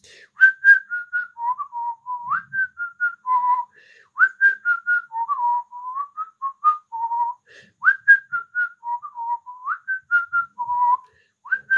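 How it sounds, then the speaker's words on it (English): A person whistles a lively, repeated melodic tune alone, steady notes and quick slides looping in short phrases, fairly close and clear with no talk. "Please keep whistling."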